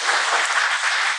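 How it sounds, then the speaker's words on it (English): A live podcast audience clapping in a room, a short, loud, continuous wash of many hands with no talk over it. "Okay, clap it up one more time."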